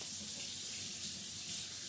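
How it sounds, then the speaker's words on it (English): About a cup of water poured into the side of a pot beside a beef tenderloin, a steady continuous splashing hiss of running water, fairly close and unbroken, with no talking. "I'm going to add about 1 cup of water over here on the side"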